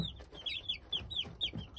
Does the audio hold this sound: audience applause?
no